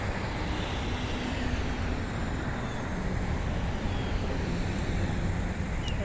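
Atlantic Ocean waves wash in as a continuous broadband roar, with wind buffeting the microphone and a constant background that may include road traffic, and no distinct individual wave breaks.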